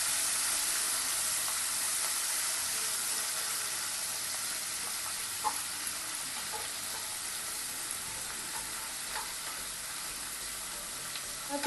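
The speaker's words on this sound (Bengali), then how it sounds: "এবার আমি পেঁয়াজটা দিয়ে দিচ্ছি। পেঁয়াজটা অর্ধেক ভাজা হবে" Chopped onion sizzling and frying in hot oil for a pumpkin and prawn curry, a steady close hiss with a few small crackles and pops.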